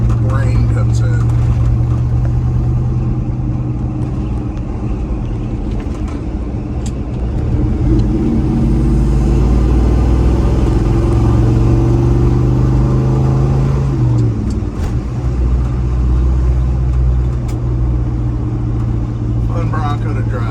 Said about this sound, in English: Got a good exhaust system. Sounds good. Great rumble.